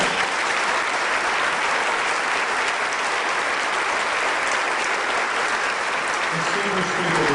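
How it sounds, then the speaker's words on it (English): Sustained applause from a concert audience at a university school of music performance, a dense, steady wash of clapping lasting throughout at constant loudness with no talk over it. "So let's give Dr. John Antel a round of applause"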